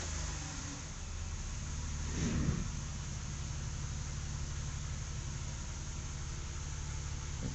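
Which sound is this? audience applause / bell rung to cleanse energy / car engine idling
car engine idling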